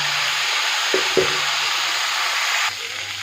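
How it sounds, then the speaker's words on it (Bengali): Potatoes and onions fry in a pan for a drumstick and fish curry, giving a steady close sizzle with two brief utensil knocks partway through and a slight drop in the hiss near the end. "আলু পেঁয়াজটা ভাজা হতে হোক"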